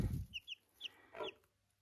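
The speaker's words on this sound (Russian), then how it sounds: "Слышите, в яйце пищит цыпленок." A chick peeps from inside an unpecked egg on the 22nd day of incubation, giving a few short, faint high chirps in a quiet setting, with a soft low thump at the start.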